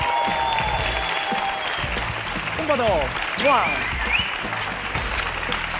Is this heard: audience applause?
yes